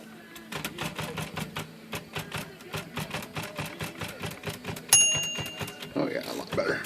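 A Royal manual typewriter types in a rapid, even clatter of keystrokes, then its adjusted bell gives a single bright, ringing ding that decays before typing resumes, close and clear.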